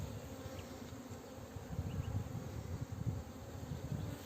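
Honey bees buzz inside a wooden hive box fitted with a divider board, a faint, steady, low droning hum with no voices.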